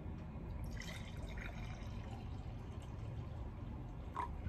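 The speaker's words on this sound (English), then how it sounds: "We're gonna pour out some white vinegar in this glass here." White vinegar pours steadily into a glass in a kitchen, a continuous close, splashy liquid stream with faint trickling throughout.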